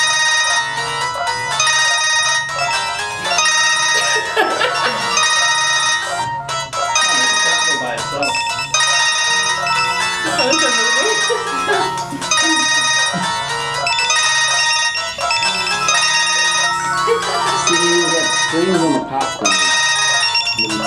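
Several mobile phones ring at once, overlapping melodic ringtones repeating loudly and continuously, with people talking underneath.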